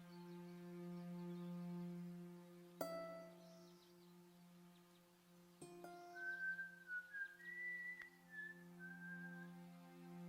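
A character in the Broken Sword 5 video game whistles Schubert's Ave Maria, a clear melodic tune that rises and falls over a steady low electrical hum, with two sharp clicks cutting in before the melody.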